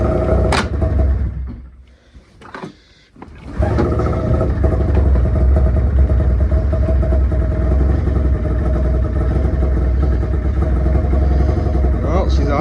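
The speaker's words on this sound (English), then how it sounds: "I'm gonna fire up the sleds, see how they go." An old, tired snowmobile engine catches after a pull, sputters briefly, then settles into a loud, steady, close clattering idle.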